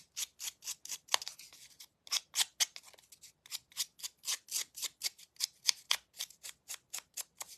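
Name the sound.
scissors scraping paper ends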